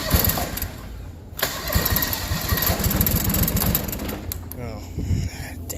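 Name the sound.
car engine running briefly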